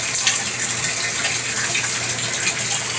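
A bathtub drain running freely after a clog was treated with Drano Max Gel, heard as a steady, loud rushing gush of water that continues without a break, close up and with no voices.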